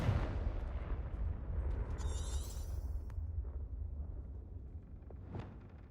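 A Confringo blasting spell goes off in the Hogwarts Legacy video game, a deep rumbling boom that rolls on and fades, with brief magical shimmering and a sharper crack near the end.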